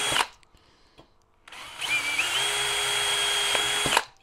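Power drill boring through a part of a 1/6 scale Armortek M26 Pershing RC tank model, held by hand without a vise: a brief start, a pause, then a steady high whine under load for about two seconds before stopping.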